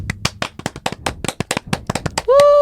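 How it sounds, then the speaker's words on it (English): A small group claps in quick, uneven bursts of sharp, close slaps for a couple of seconds, ending in a sustained electronic tone. "Oh, sorry, we'll clap."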